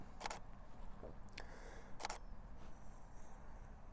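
Two crisp camera shutter clicks, each a sharp double snap about two seconds apart, with a faint softer click between them over quiet room noise; handheld shots at slow shutter speed.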